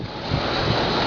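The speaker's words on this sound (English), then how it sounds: "It's pretty windy out." Strong wind blows outdoors, a continuous loud rushing roar with gusty swells that buffets the microphone, heard alone.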